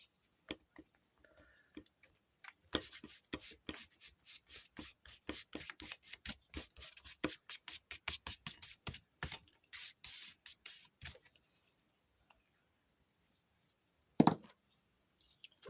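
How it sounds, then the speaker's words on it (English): Paint sticks, including a wax one, are rubbed across a journal page in quick rhythmic strokes, soft scratchy swishes in a steady series that stop, then one last louder scrape, close and quiet. "These paint sticks are so much fun. Just glide on."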